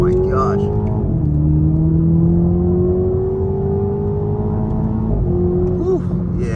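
A 2023 Toyota GR Supra 2.0T turbo four-cylinder with manual shifts accelerates hard, the engine note climbing steadily and dropping briefly at two gear changes, loud and close throughout.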